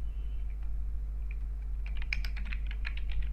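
Typing on a computer keyboard: near silence with a low hum, then a quick run of close, light key clicks in the last half, with no talk.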